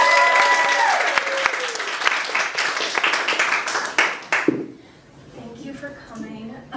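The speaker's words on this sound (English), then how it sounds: "please give a round of applause for Lily Robbins" Audience applause for a poetry reader at a senior project event, a dense round of clapping that fades out after about four seconds, followed by a voice speaking.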